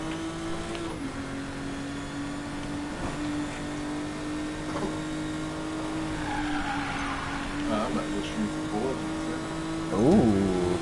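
A Porsche 911 Carrera RSR 2.8 RWB in Need for Speed Payback drifts with a steady engine drone, tires squealing through the slide and a sharp burst of revving near the end.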